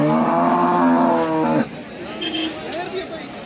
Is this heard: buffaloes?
yes